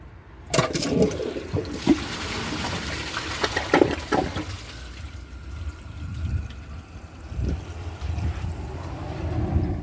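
A 2008 Kohler Wellworth toilet flushes loudly during a flush test, a gushing rush of water that peaks early and then settles into a softer draining and refilling swirl, heard alone.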